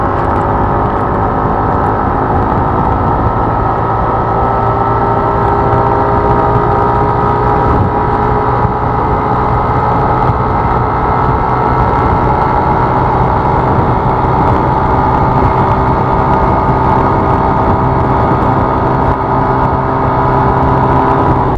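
An Aprilia SXR 160 scooter accelerates toward top speed, its engine a loud, continuous whining drone mixed with heavy wind rush, sustained without a break for over twenty seconds and no talking.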